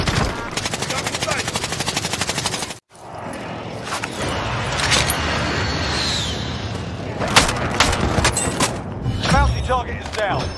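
Rapid automatic gunfire rattles through a video game firefight, steady bursts with a brief cutoff near the start, dense and loud, with voices talking over the shooting.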